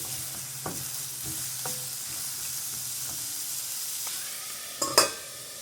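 Sliced onions fry in a pan over high flame until golden for garlic chicken, a steady close hiss with a few soft spoon taps and a sharper metal clatter near the end.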